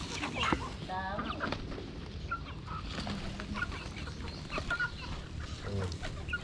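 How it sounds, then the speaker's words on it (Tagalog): Pigeons gathered at a skywalk coo and flutter while being fed, with soft bird calls and wing flaps under nearby chatter and city noise. "Yung kalapati nyo dyan, hirap pakainin dito."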